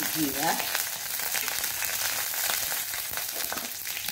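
Cumin seeds frying in hot oil for Mangalorean-style mixed dal palak, a loud, steady close-up sizzle with a brief clatter at the start.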